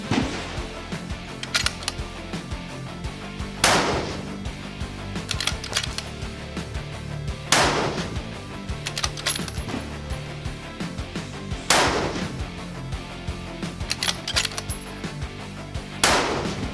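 A Tikka T3x Tac A1 rifle fires four sharp shots spaced about four seconds apart. Quiet mechanical clicks and handling noises fall between the shots, with no talking.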